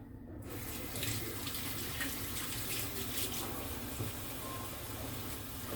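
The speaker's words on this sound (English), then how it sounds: "Rinse that off real quick" Running tap water pours steadily into a kitchen sink while vegetables are rinsed in a colander, a continuous close hiss and splash with no voices.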